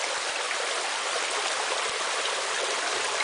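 A creek spills down cascading waterfalls, giving a steady, full rush of water that stays even throughout and is heard alone.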